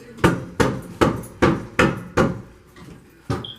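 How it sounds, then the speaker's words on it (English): A mallet taps bathroom tile into place: six sharp, evenly spaced knocks, then a softer seventh, loud and close with no talking. "I recommend using a mallet."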